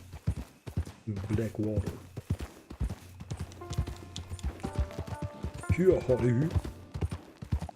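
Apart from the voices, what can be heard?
horse galloping hoofbeats in Red Dead Redemption 2 video game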